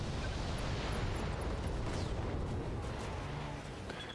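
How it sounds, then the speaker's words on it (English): A BattleTech mech firing all its weapons at once sets off a dense, roaring volley that blends into one sustained explosive rumble. The barrage stays loud and close, then tapers slightly near the end, with no speech over it. "Firing all weapons."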